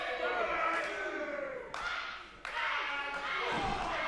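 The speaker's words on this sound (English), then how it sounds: "Big vertical suplex from Joey Triton on Ace Wilson" A wrestler slammed onto the ring mat by a vertical suplex at a live pro wrestling show: two sharp, heavy thuds a moment apart over loud crowd noise and commentary.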